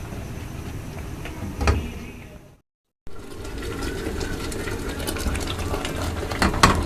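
Homemade tomato ketchup with vinegar simmers in a pot, a steady close bubbling and hissing with occasional louder pops, interrupted by a brief silent gap before resuming.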